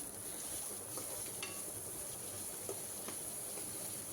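Finely chopped onions with ginger and garlic fry in a pan for chana masala, a faint, soft sizzle with occasional light stirring scrapes and ticks, quiet and steady, no voices.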